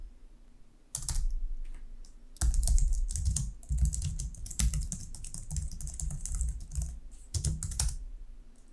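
Code being typed on a computer keyboard for a C# chess program, with steady clicking keystrokes in bursts and short pauses, close and clear, no voices.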